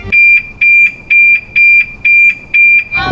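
A loud electronic alarm beeps in a steady rhythm, about seven piercing high-pitched pulses in quick succession, close and alone.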